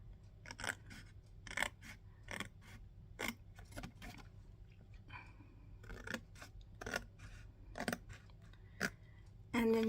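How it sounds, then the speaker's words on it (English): Scissors cut through paper card in a series of close, crisp snips with short pauses between them, quiet and alone against a faint background hum. "So I'm going to use my pair of scissors for that."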